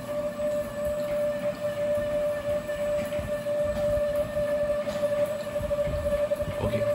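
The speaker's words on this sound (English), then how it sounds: "you can see the motor running here" An electric motor running under Arduino control, giving a steady droning hum with a sustained tonal whine over a rumbling low end, fairly loud and continuous, no speech.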